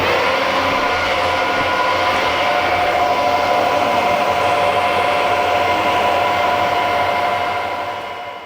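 A drill bores a 5.2 mm pilot hole for an annular cutter, a loud continuous whirring drone holding steady throughout before tapering off at the end, with no talk.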